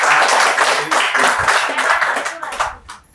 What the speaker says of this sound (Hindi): बहुत बढ़िया, जोरदार तालियां हो मैडम